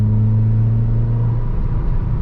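A Honda Mobilio car pulls in third gear as the driver eases the throttle on, giving a steady, close engine drone with a low rumble and no talk over it.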